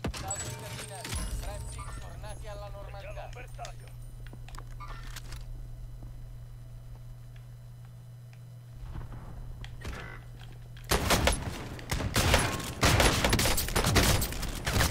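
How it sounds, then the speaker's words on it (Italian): Gunfire in Call of Duty Warzone: scattered distant shots early, then heavy, close bursts of rapid fire dominating the last few seconds, with someone talking at the start. "Sento sparare qua, regà."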